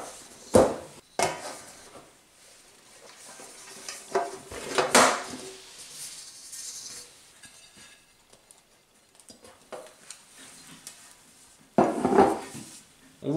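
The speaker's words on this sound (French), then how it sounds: "Donc on va le démouler et ensuite on va le couper." A baked far breton with prunes is turned out of its dish and cut, giving scattered clinks and knocks of a metal pan and knife, several sharp bangs with quiet handling between.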